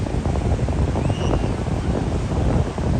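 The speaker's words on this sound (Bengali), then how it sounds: "সমুদ্রে যে এই যে শব্দটা, গর্জনটাই মনটা জুড়িয়ে দেয়" Steady roaring surf at Cox's Bazar beach during rising tide in the rainy season, with heavy wind buffeting the microphone, continuous and loud throughout.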